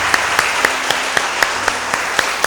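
A church congregation at a family worship service applauds, with a steady wash of clapping and a rhythmic, regular beat of louder claps running evenly throughout.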